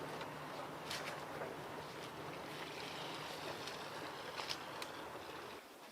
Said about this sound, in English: we're going to want to wet them down with some water